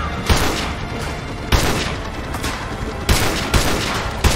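Sniper rifle fire in the video game Modern Warfare 2 Remastered, five loud, sharp cracks spaced irregularly over a dense, continuous battle din.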